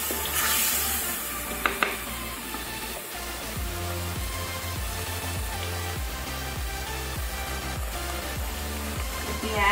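Fish curry being stirred in a pan in a South Indian home kitchen, with soft scraping and bubbling from the simmering mix, heard under a woman's speech.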